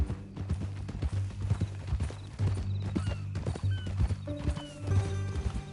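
Hooves of a horse in a Western ranch video game clip-clop steadily and close by, mixed with a whinny and low rumbling game ambience, while occasional voices talk faintly.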